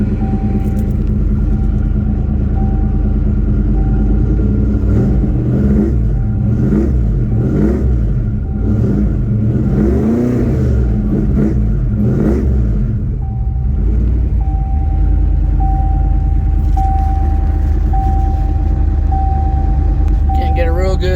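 A Foxbody car engine fitted with Holley Terminator X fuel injection runs loud and steady after a cold start, its tailpipes covered. A deep, continuous exhaust rumble swells and eases in uneven revs while a voice talks over it.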